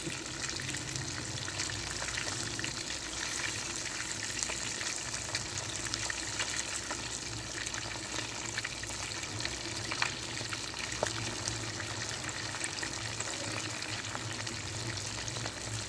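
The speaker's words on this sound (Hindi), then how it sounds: "फिश को हमने अच्छी तरह से फ्राई कर लिया है" Fish fillets frying in a pan of hot oil for masala curry, a steady dense sizzle and crackle throughout, close and fairly quiet, with no talking.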